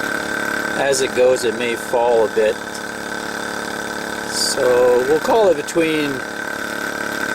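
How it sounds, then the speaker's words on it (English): A small water pump runs off a NOCO GB150 battery booster, giving a steady, thin electric whine with a low hum underneath, constant throughout while someone talks over it. "Water pump's running."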